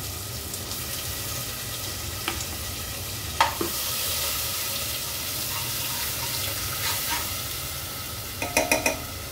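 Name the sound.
ground spice paste added to pan and sizzling for black peas curry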